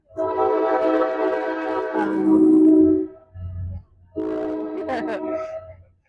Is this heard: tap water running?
no